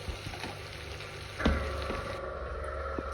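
Onion, cumin seeds and a few cloves of chopped garlic frying in hot oil for moth dal, a steady close sizzle with faint stirring clicks and a brief louder hiss burst partway through.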